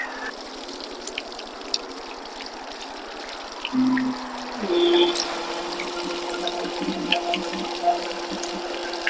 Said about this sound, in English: we pop this pressure release valve to let more air into the system. Make sure it's all the way drained.